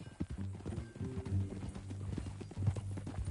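Horse hooves in Red Dead Redemption 2 clip-clop in a steady walking rhythm over a low game soundscape, close and moderately loud.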